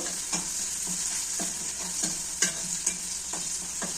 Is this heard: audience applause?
no